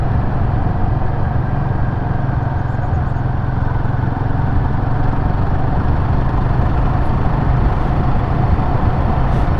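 A Royal Enfield Guerrilla 450 motorcycle engine drones steadily while the bike is ridden gently during break-in at moderate revs, a loud continuous thrum mixed with wind rush and no talking.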